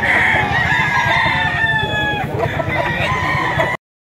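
Chickens cluck and a rooster crows loudly nearby at a chicken market in Lipa, Batangas, with busy clucking continuing throughout before the sound cuts off abruptly.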